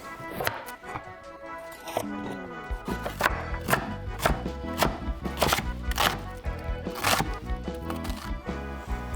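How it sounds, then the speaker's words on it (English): Knife chopping vegetables, including onions, on a cutting board for maque choux, with irregular sharp knocks at close range and some pauses between cuts. "what we're gonna do is cut our vegetables for our maque choux"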